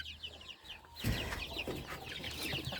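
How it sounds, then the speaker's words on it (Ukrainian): Hens cluck near a brooding hen sitting and laying in a poultry coop, soft chirps and clucks giving way to a louder, busier run of overlapping clucking and rustling. "Воно, бачите, курочка сидить, несеться."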